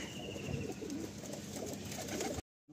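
Andhra and Madrasi pigeons cooing, low soft throaty coos repeating close by over a continuous background, ending in brief silence.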